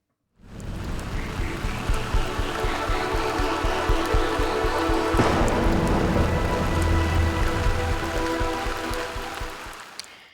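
Steady rain shower pouring down in Mumbai, a dense continuous hiss of drops on surfaces that fades in and holds loud and close for about ten seconds, with no speech.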